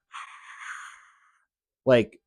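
A voice imitates a supernatural entity's yawn, first a drawn-out breathy exhale that fades over about a second, then a short, harsh voiced grunt after a pause.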